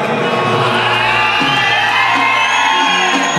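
An audience at a stage event cheers and whoops loudly in a dense crowd roar that holds steady throughout, with individual shouts rising above it.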